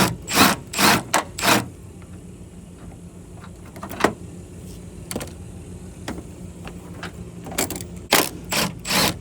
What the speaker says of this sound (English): now I'm taking this nut and this washer flange off because I prefer to use the OEM one